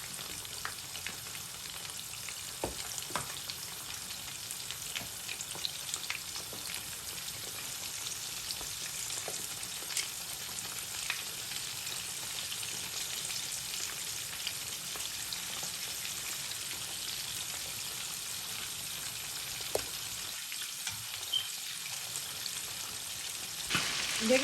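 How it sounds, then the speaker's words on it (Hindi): Buffalo chicken wings deep-fry in hot oil with a continuous bubbling sizzle, steady and close. Occasional louder pops stand out over the constant hiss. "बस दोनों साइड से हमने इनको गोल्डन फ्राई कर लेना।"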